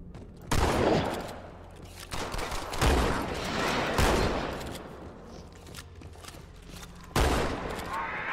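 Rifle fire in the Halo 2 campaign: sharp bursts of shots with several distinct loud cracks and rattling volleys, separated by short gaps, with game noise filling the spaces between.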